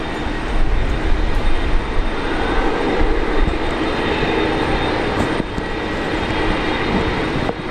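Airliners at Brisbane Airport give off a loud, continuous broadband jet engine roar that holds steady throughout, close and heavy, with no voices.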